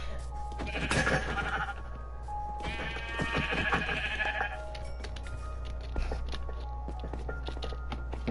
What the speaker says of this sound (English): now all the freaking little sheep's wanna come to me as soon as I get a bed